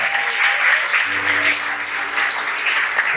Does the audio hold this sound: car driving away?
no